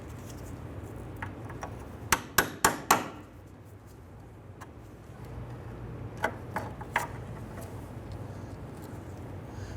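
A small metal punch struck by a hammer to drive a broken cotter pin out of a steering component on a 1994-2004 Ford Mustang: a quick cluster of four sharp metallic taps, then a few lighter taps later, close over a steady background hum.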